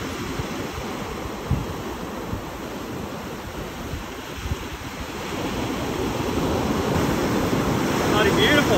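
Ocean waves on the South Australian coast near the Nullarbor, a steady roar of surf mixed with strong wind buffeting the microphone, growing slightly louder toward the end.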